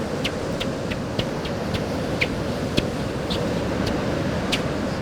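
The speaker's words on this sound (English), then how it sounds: "and we're also at the Squeaky Sand. Check this out." Dry sand squeaking underfoot on a beach along the Western Australian edge of the Great Australian Bight, with short sharp chirps repeating at an irregular walking pace over a steady rumble of wind and surf.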